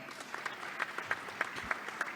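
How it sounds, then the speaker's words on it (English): An audience at a youth digital-technology forum breaks into applause, a dense patter of clapping at moderate level with a few distinct louder claps, brief and continuous. "Another round of applause for that."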